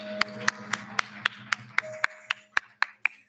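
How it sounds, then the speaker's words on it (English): Slow, evenly spaced hand claps at an exporter awards ceremony in Lesotho, about a dozen sharp claps roughly a quarter second apart with a faint steady hum beneath, sounding more like one person or a small group than a full crowd. "let's please give them a very warm round of applause"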